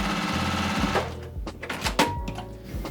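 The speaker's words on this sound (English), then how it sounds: "sewing 1/4 inch seam down" A sewing machine stitches a quarter-inch seam on fabric for a bow, its needle thumping in a fast, steady rhythm up close, then slowing into a few separate strokes.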